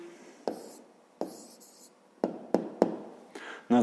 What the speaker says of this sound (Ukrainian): Ну що ж, записуємо відповідь.